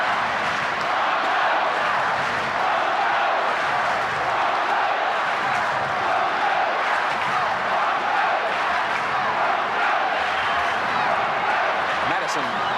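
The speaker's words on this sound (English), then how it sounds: "The chant going up around Lane Park for the Broncos" Crowd at Lang Park chanting for the Broncos during a rugby league match, a dense, steady roar of massed voices holding at an even level throughout without a break.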